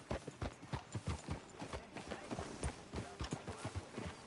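Horse hooves clip-clop in a steady trotting rhythm in a PlayStation 4 video game, fairly quiet and close, with no talking over them.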